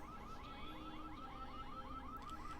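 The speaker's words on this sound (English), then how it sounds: "And there goes that car alarm outside again." A car alarm sounds faintly outside, steady cycling wails repeating at a quick, even rhythm over a constant background hum, with no voices.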